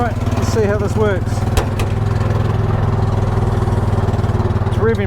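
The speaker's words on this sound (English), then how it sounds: "It's revving pretty high." A small engine on a vintage 1980s UTV runs at a high, steady rev with a constant droning hum, close by, while a person speaks briefly over it.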